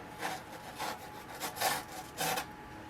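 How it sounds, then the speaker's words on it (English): Soft rhythmic scraping strokes, four or five in a row, close and fairly quiet, as a scalpel drags through soft foam. "after cutting that piece off, I realized maybe a scalpel is not the best idea because the cutting surface is so soft"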